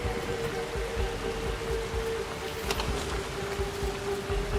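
Rain falls in the video game Assassin's Creed Shadows, a steady, dense hiss of downpour heard alone with no voices over it.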